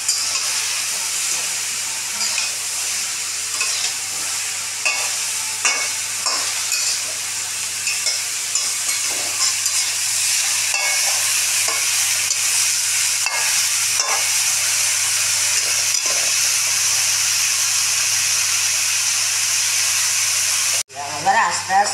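Fish head simmering and stirred into a Bengali vegetable shukto, a steady close sizzle and hiss with scraping stir strokes throughout, briefly cut off near the end.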